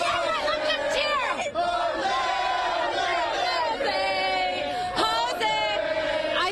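Houston Astros fans cheering and yelling after their team wins the ALCS, a loud sustained crowd roar with overlapping whoops and shouts, voices rising and falling together.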